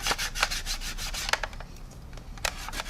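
A piece of kitchen roll is rubbed in short, rhythmic back-and-forth strokes over a 1/48 Minibase SU-33 model aircraft for weathering, a close, soft scratchy brushing that pauses briefly midway before resuming.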